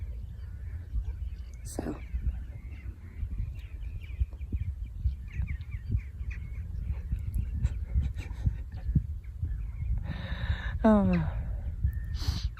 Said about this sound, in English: You hear the stillness. Yeah, it's beautiful. Birds and the sea.